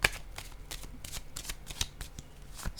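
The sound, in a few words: playing cards being handled and laid down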